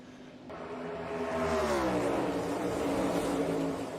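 NASCAR stock cars racing at Texas Motor Speedway in the 2023 Autotrader EchoPark Automotive 400, engines whining and rising in pitch as the pack sweeps past, swelling loud then easing slightly.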